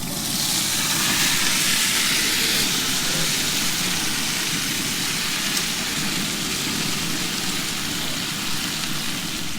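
Potatoes sizzle in a hot cast iron skillet: a steady, dense hiss and crackle that holds at an even level throughout, with no voices.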